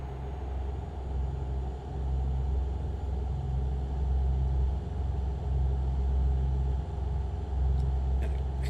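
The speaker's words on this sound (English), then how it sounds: "Love the sound of the engines there." Modded vehicle engines in the game Starfield give a steady, deep, truck-like rumble that holds at a loud level throughout, with no talk over it.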